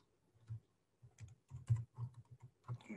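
Uneven clicks of typing on a computer keyboard, a few close keystrokes tapped hesitantly with short gaps between them.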